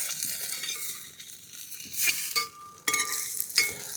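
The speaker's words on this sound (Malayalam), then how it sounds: "ഇനി നമുക്ക് സ്വല്പം മുട്ട പൊരിച്ചെടുക്കാം." An egg fries in hot oil, crackling and sizzling close by while a utensil stirs and scrapes against the pan with a few sharp clinks.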